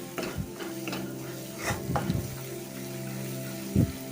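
Kashmiri Byadgi chilli masala for misal is stirred in a pan over a soft sizzle, with a few scattered scrapes and a clink of a spoon against the metal, close and fairly quiet.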